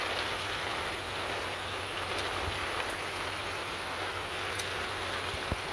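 Rain falls at night in a steady, even hiss with a few faint individual drop taps scattered through it, and no one speaks.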